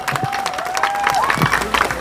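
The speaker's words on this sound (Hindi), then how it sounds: "एक बार फिर से जोरदार तालियां हो जाए महुआ जी के लिए।" Crowd applause at an outdoor political rally at Jantar Mantar, a dense patter of many hands filling the whole two seconds at moderate level, with a steady tone and scattered shouts mixed in.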